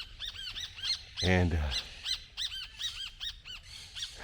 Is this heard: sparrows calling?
yes